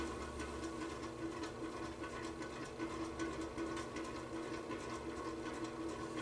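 A salvaged 26-inch box fan motor runs steadily with its capacitor bypassed, giving a continuous rough hum and whir at moderate, unchanging level with no pauses.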